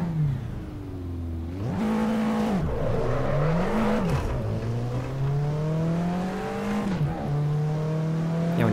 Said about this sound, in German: hier haben wir jetzt den Porsche 911 Turbo mit einem manuellen 6-Gang-Getriebe